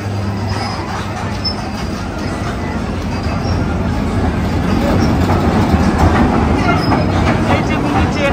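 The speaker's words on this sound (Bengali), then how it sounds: "এখন ট্রেন গাড়িটি চলে আসছে।" A mini train at a Bangladeshi amusement park rolls in toward the station with a steady rumble and faint wheel clatter and squeal, a continuous mid-distance sound that grows slightly louder in the second half, with crowd noise around it.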